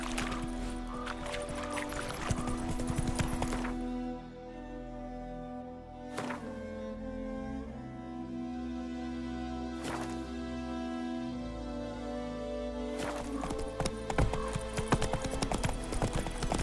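Roach the horse galloping in The Witcher 3: Wild Hunt, steady, rapid clip-clop hoofbeats under a sustained musical score, with a few sharp, louder hits along the way.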